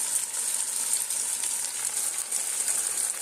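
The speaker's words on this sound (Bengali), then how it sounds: "এতে একটুও জল দেওয়া হবে না, তেলেতেই কষা হবে পুরোটা।" Chicken kala bhuna frying in oil with a little sugar and no water added gives a steady, close, continuous sizzle with no pauses and no talking.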